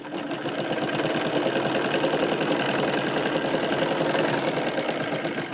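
A sewing machine stitches a lined four-tuck belt blouse near the sleeve joint, a steady, rapid, close mechanical chatter running without a break from start to finish.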